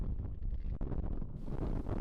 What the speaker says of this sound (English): The weather here at Croydon, as you can see, is very, very windy.